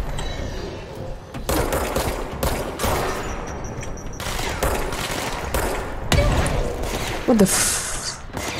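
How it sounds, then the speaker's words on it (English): An enemy grenade explodes during a boss fight in the video game Control, a loud broadband burst among repeated gunfire-like blasts, with a brief startled voice in the middle. "I guess he threw a grenade at me"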